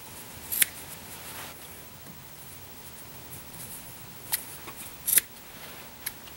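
Scissors snip off excess warp threads on a Little Weaver loom, a few sharp, quiet cuts spaced irregularly over a soft room hush, with no talking.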